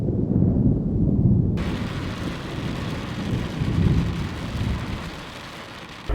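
Steady heavy rain pours down outdoors at a music festival, with low rumbling like distant thunder rolling underneath; the wash is loud throughout and becomes brighter and fuller partway through.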